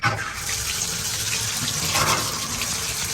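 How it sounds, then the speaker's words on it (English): A handheld shower head sprays water onto an Arctic Air Tower part to soak it, producing a steady, close, hissing rush of water that runs unbroken and alone. "I'll get my shower thing here, and we'll just go ahead and we'll get it wet, right?"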